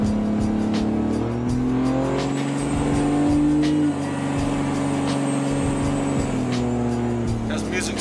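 A diesel pickup truck with a 6.7 Cummins engine revs and accelerates up close, its loud, steady roar climbing in pitch, with brief pauses and road noise throughout.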